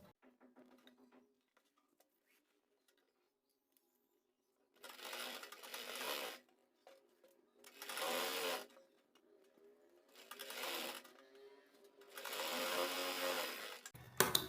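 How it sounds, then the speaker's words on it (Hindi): A sewing machine stitches the hem of a salwar in several steady bursts of a few seconds each, separated by pauses, loud and close with no talking over it. "अब यहाँ से इसको बंद करेंगे 6 इंच पर ही"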